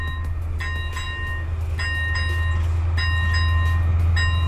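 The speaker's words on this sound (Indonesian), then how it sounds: "Nah ternyata yang lewat adalah kereta Metrans. Ini adalah ngangkut peti kemas." A Metrans container freight train rolls steadily past a level crossing with a deep low rumble. Crossing bells chime in a regular repeating rhythm above the train noise.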